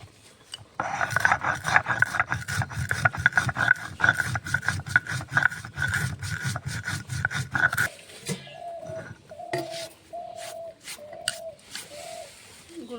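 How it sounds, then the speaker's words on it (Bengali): Roasted panch phoron whole spices are ground in a small grinder, a dense buzzing rasp for several seconds before it stops, followed by birds cooing and calling nearby. "ভেজে রাখা পাঁচফোড়নটা গুঁড়ো করে নেব"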